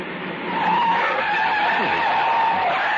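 Car tires skidding as the brakes fail, a radio drama sound effect: a loud, sustained screech that swells after a brief moment and holds steady for several seconds.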